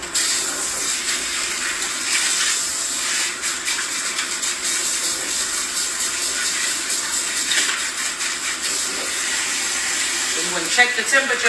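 Water runs steadily from a tap into a salon sink, a continuous close hiss and splash with no break.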